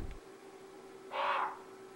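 A single harsh crow caw rings out briefly in the middle, over a steady low hum and faint background, in the video game Resident Evil HD Remaster.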